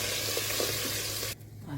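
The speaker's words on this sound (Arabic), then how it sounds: "ضفت 3 معالق كبار من الصلصه المعلبه، شوحتهم كده مع بعض" Canned tomato sauce sizzles and fries in a pan with caramelized sugar, a steady close hiss that cuts off abruptly near the end, with a low hum underneath.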